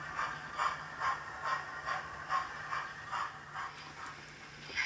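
A model J15 locomotive pulls a Pease's Junction wagon and light grey NER coke wagons along a portable layout track, making a steady, faint, rhythmic clatter of wheels over the rail joints.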